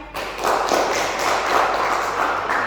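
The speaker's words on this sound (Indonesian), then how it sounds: "Beri aplaus untuk temannya." A classroom audience claps for a classmate, a dense, steady patter of many hands that starts abruptly and continues evenly, fairly close, with no voices over it.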